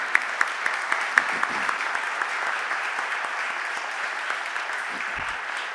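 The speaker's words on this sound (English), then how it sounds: "If you could stand up so we can give you a round of applause." A Philadelphia City Council chamber fills with sustained, steady applause from the audience, a dense wash of clapping with a few sharper claps standing out near the start, lasting throughout.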